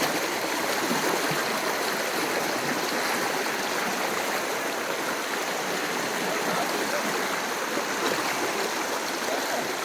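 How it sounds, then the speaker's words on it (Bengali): A strong stream current rushes at Nafakum in Bandarban, making a dense, continuous roar of churning water up close. "বাট ভালো স্রোত আছে, দাঁড়াতে পারতেছি না এক জায়গায়।"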